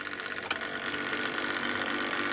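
A Tri-ang B12 model railway locomotive motor runs noisily, giving a steady whirring, ratcheting gear chatter with rapid clicking pulses, close and continuous throughout, with no voices.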